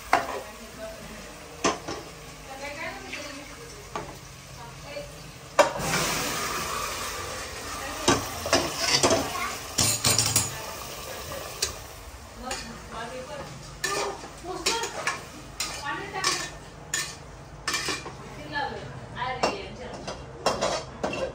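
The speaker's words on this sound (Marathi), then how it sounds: "आता टाक चिकन" Chicken pieces go into a hot pan for biryani, with loud frying sizzle and repeated clanking of a spoon stirring against the metal pan, close and steady over the whole stretch; a voice speaks briefly early on.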